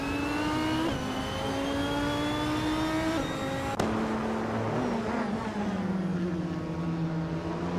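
Race car engines including a Zytec C11 SM, a steady high-pitched engine drone with gear-shift steps and a sharp pop, then a note sliding downward as the car eases off, loud and continuous without talk.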